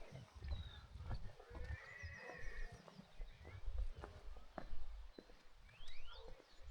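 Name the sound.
horses neighing and hooves clip-clopping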